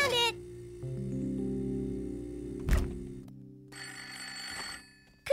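A telephone rings in sustained electronic tones, with a brief thump and a short burst of noise between rings.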